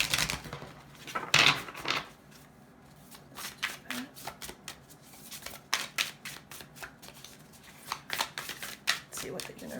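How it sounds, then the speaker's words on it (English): Universe Has Your Back oracle cards being shuffled by hand, a series of quick crisp riffling bursts and soft taps, close and fairly quiet, with someone talking intermittently. "just get another card here from the Universe Has Your Back"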